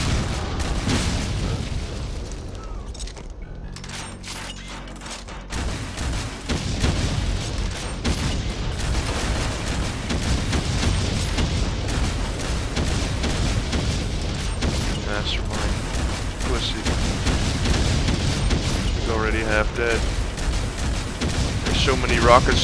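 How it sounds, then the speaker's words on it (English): Grenades in Final Doom with Project Brutality go off in a dense, loud stretch of booms, blasts and mechanical clatter that runs almost continuously, with game effects layered over the top. "Let's use some grenades up here."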